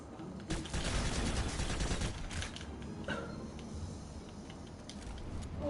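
Rapid gunfire from the Pulsar C rifle in the game Planetside 2 rattles out in dense bursts, strongest in the first couple of seconds and then continuing more sparsely with sharp individual shots.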